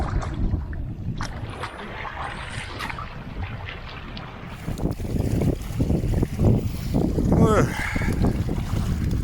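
Waves wash against a shore at a wilderness campsite under steady gusting wind and microphone buffeting, rising louder in the second half, with a voice speaking briefly.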